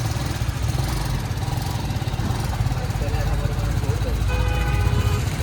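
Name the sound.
motorcycle engine running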